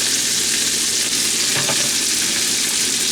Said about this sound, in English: So I just saute them.